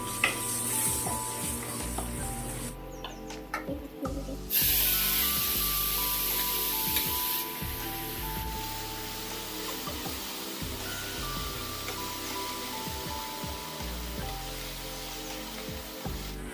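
Garlic cloves and fenugreek seeds sizzling in leftover fish-frying oil, a steady loud crackling fry with bursts of spattering and stirring, close up with no talk.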